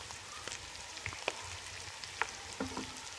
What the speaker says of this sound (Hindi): इसको भी मैंने थोड़ी देर पकाना है ताकि ये जो लहसुन है